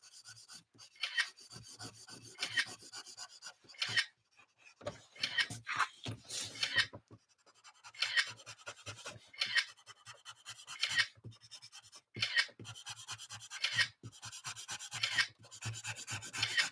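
Fresh chisel-tip Sharpie marker coloring on paper, close rhythmic scratchy strokes in quick bursts with short pauses between them.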